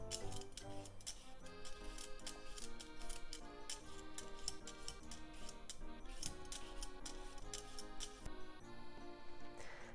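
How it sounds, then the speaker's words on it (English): Potato skin is peeled for Japanese croquettes in a steady run of quick, rasping scrape strokes, close and fairly quiet, with no speech. "Potatoes. Let's peel the skin."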